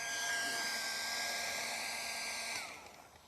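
A bubble machine at a fire pit camp cooking setup gives a steady, close motorised whir with a thin high whine, then winds down and fades over the last moment as it is switched off.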